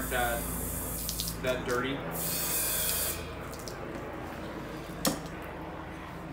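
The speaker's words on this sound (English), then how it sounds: "now I'm gonna take my hose here and spray this off" A garden hose sprays water to rinse cleaner off drum cymbals, producing a steady loud hiss and splash close by, with a brief spoken remark over it.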